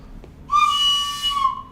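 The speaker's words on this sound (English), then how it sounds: "That's me playing the whistle." A child blows a whistle once, a single shrill, steady tone lasting about a second, loud and close with nothing else around it.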